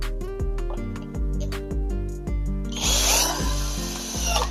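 Power drill driving black screws into a CCTV camera mount, the motor whining in repeated short bursts as each screw seats, with a rougher grinding burst toward the end; close and loud, no talking.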